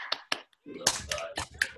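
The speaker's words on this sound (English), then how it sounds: "Let's clap." A few sharp hand claps from children ring out in quick separate bursts, close and fairly quiet, with short gaps between them.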